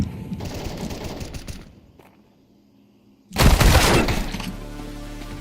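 Incendiary grenade bursting in a shooter game: a loud, sudden whooshing blast with crackling burn after a quiet stretch, following a spell of busy gunfire and game noise.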